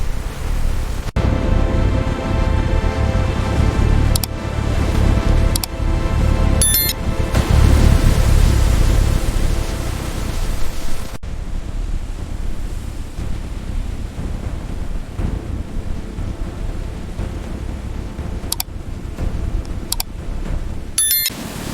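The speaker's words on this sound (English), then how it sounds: "millions of liters of water blast away mud and debris" Steady roaring wash of water jets blasting mud and debris off sugarcane inside a huge washing tunnel at a processing plant, a loud continuous broadband rush with faint high beeps cutting through now and then.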